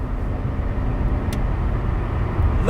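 A 1995 Nissan Skyline R33 GT-R turbo pulls hard, heard from inside the car as a dense, steady low engine drone with road roar, briefly and without voices.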